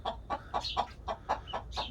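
A broody hen mothering ducklings clucks in a quick, regular series of soft calls, close by and fairly quiet against low background noise.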